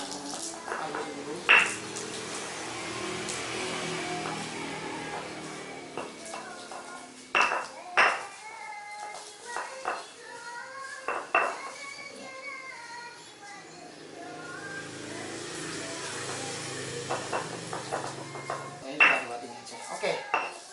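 Tempeh being mashed smooth in a bowl for a tempeh-and-peanut side dish, heard as a steady run of scraping, tapping and clinking of a utensil against the bowl, with a few sharper knocks and quiet talk in the background.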